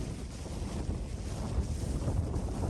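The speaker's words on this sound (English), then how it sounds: "It makes a lot of noise, but only because it's been hit by the wind" Strong 40+ mph wind buffeting a Hilleberg Soulo tent at a summit camp in wind and rain, a continuous heavy rushing roar with low rumbling gusts, loud and steady with no talk.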